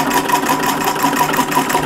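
A treadle sewing machine stitches fabric during quilting in a steady, even run, its soft mechanical whir holding at one pace throughout with no talking.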